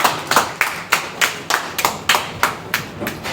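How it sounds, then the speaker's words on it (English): An audience at a school farewell for SSLC students claps in a steady rhythm of about a dozen loud, close, sharp claps, with no talking. "Let's keep clapping for this memorable gift"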